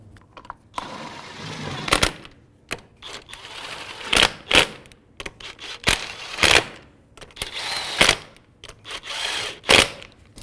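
A rear wheel on a 2005-2009 Subaru Outback is tightened after a sway bar link replacement, with short, sharp, clicking mechanical bursts repeating irregularly at close range.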